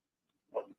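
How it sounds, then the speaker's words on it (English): A dog gives one short, faint bark, heard alone against silence. "Now my dog's barking now."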